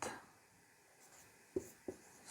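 Chalk or marker strokes on a board during a maths lesson, two short distinct taps and scratches after a faint rubbing start, quiet and close with no talk.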